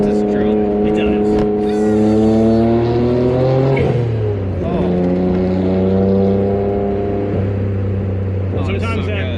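A Suzuki Alto Works RSX kei car's small turbocharged engine drones loudly from inside the cabin, its pitch climbing through the gears with a dip at each shift, while people talk over it.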